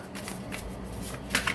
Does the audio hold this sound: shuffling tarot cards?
yes